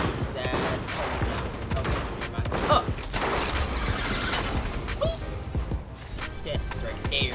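Gunfire from a weapon in Fortnite, rapid crackling shots and sharp impacts in a dense, fairly quiet burst, with faint game effects underneath.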